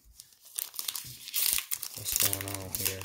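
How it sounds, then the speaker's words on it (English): Plastic wrapping crinkles and tears as it comes off a new Lenovo Smart Display, close and moderately loud, with someone talking over it and steady tones near the end. "Let's unwrap it here real fast"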